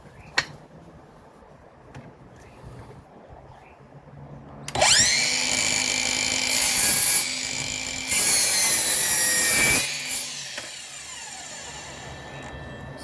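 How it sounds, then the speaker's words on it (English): Stanley Fatmax V20 cordless mitre saw (SFMCS701) cutting through oak hardwood: a quiet lead-in, then the loud whining blade spins up and bites for about five seconds with a brief dip mid-cut, and winds down with fading ring. "you will see that how fine it cuts"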